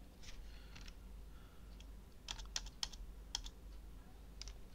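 Quiet typing on a computer keyboard while entering a database command, a short run of soft irregular key clicks with a few sharper taps, close and fairly faint over low background hum.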